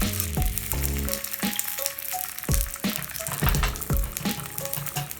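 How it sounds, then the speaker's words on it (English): Tortillas dipped in birria broth sizzle and crackle as they fry in a pan, with bursts of bubbling as pieces go in and are moved around. "I just want to dip my tortilla and then fry it"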